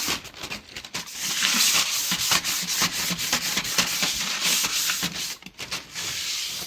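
Vintage furniture edges smoothed with a crumpled paper bag, giving a steady papery rubbing with quick back-and-forth strokes, close and fairly loud throughout.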